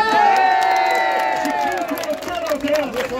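A festival crowd at a contest of the Haiducilor festival cheering and applauding loudly, with shouts, whoops and clapping that hold steady and then ease slightly, a continuous dense roar.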